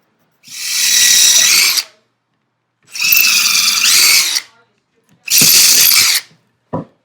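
Power drill pre-drilling holes while an old table is repaired: three loud, steady bursts of whirring of one to two seconds each, with short gaps between them and a brief fourth touch at the end.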